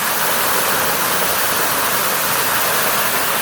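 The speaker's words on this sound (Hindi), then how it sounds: "आबशार कैसा बेहतरीन बह रहा है" A waterfall in Kohistan, Pakistan pours nearby, a loud, unbroken roar of rushing water that holds steady throughout.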